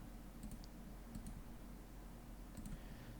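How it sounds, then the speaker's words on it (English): Quiet, intermittent clicks of typing on a computer keyboard, a few short bursts of keystrokes spread across a few seconds over a steady low background hum. "let me just type it down."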